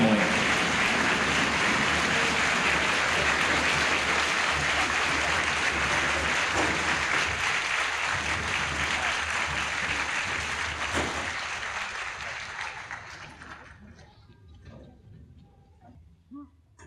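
Loud applause from a sizable crowd at an Army graduation, steady for about eleven seconds, then thinning out and dying away to near silence with a few final claps.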